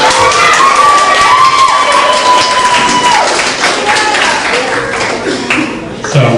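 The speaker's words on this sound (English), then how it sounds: "One more big round of applause, everybody, for Bridget." An audience at the 2003 Clark Idol talent show claps and cheers for Bridget, a singer, with dense, steady applause and scattered shouts, loud and close throughout.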